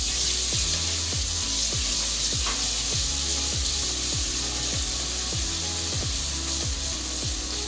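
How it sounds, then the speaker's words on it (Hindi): Garlic fries in oil for dal palak, a dense, steady sizzle with rhythmic scraping strokes of a spoon stirring the pan at regular intervals, close and continuous, with no talk. "अब इसको फ्राई करेंगे।"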